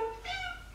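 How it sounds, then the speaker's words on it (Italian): A house cat gives one short meow indoors, close and moderately loud, over a low room hum. "qui c'è Gatto Denver."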